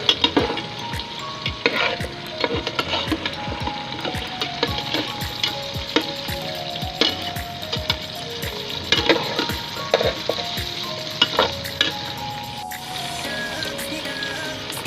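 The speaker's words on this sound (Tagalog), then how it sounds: "yan naman pong ating patatas ay prituhin po natin ng bagya" Potato pieces fry in hot oil in a pan for chicken caldereta, a busy crackling sizzle with sharp pops and occasional stirring scrapes, steady and close throughout.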